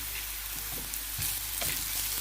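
Onions browning in a pan with ginger and garlic just added, a dense close sizzle and crackle running steadily with small pops throughout.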